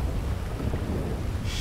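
Pouring rain and rolling thunder during a storm in the video game GTA 5, a constant loud wash of water and low rumble, with no talking.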